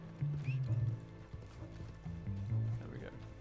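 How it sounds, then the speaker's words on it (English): A horse in the Western game Red Dead Online wades across water, hoof splashes and clip-clop with a brief whinny, heard under someone talking over it. "My horse is taking a dumbass route across the water."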